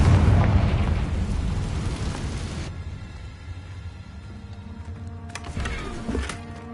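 A Confringo fire-blast spell in Hogwarts Legacy erupts with a loud, roaring explosion that slowly fades into a rumbling tail, then brief crackling pops follow near the end.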